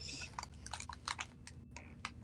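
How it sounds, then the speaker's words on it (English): Keys on a computer keyboard are tapped in quiet, irregular clusters of soft, close clicks over a low background hum. "Is there a reason you're only typing now"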